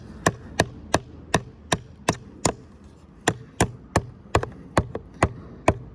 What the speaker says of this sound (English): I'm just gonna hammer that one in a little bit right there